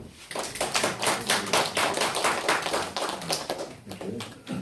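A church congregation at a Bethel Lutheran Church Thanksgiving and 39th-anniversary service applauds to welcome a member, with dense, steady clapping from many hands that runs the whole length at close range, with no speech over it.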